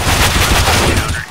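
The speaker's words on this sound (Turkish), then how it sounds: "Ben tabancayla vuruyorum" Pistol gunfire in the video game CS:GO: a dense burst of loud, overlapping shots fills the whole short moment, with another voice faintly mixed in, then fading slightly at the end.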